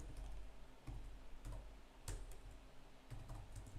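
Keys on a computer keyboard are tapped in quick irregular bursts, close and fairly quiet, with a few sharper clicks standing out.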